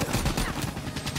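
Gunfire in the Xbox One multiplayer game Call of Duty Black Ops III rattles in a dense, loud burst of overlapping shots that fills the whole short moment without pause.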